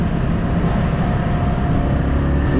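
Small 155cc motorbike riding through chaotic Bali traffic, a steady loud engine drone and road rumble with wind noise, continuous and close, with no voices.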